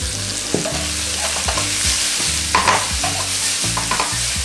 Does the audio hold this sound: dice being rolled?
no